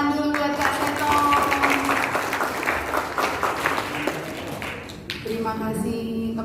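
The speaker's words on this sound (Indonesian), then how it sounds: "Tepuk tangan dulu buat Kak Seto." Audience applauding at an Indonesian children's talk show event in Samosir, steady clapping through most of the stretch, with some voices and a tonal background sound under it.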